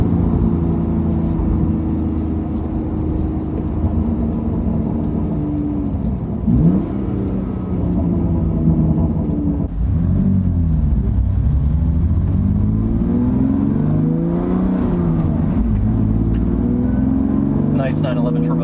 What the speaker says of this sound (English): the way the turbos are set up with one per bank of 3 cylinders creates a little bit of an odd sound